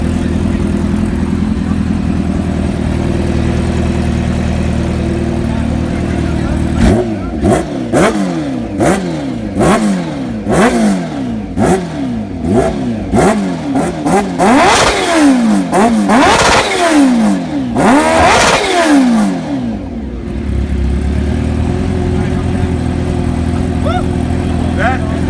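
A supercharged 2018 Kawasaki H2-R motorcycle idles, then is revved repeatedly in quick, loud bursts with rising and falling whines before settling back to idle, with people talking in the background.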